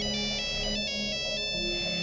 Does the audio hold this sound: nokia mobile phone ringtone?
yes